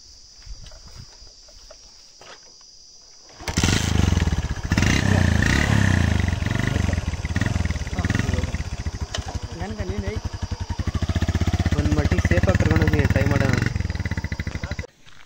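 A motorcycle ridden along a rural road near Nagasamudra, Molakalmuru, its engine starting abruptly and then droning loud and close with shifting revs, while people talk over it.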